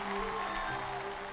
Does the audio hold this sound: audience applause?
yes